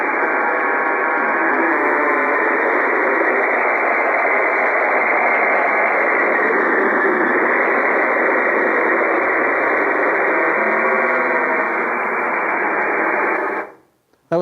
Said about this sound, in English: This is what a signal sounds like.